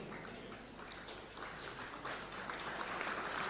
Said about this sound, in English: A round of applause kindly, ladies and gentlemen, as they receive their awards.